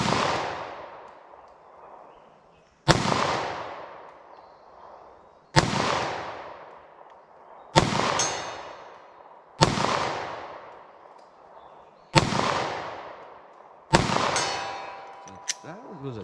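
Seven loud, sharp 9mm pistol shots are fired one at a time at targets 75 yards away, spaced roughly two to three seconds apart, each crack trailing off into a long echoing decay outdoors.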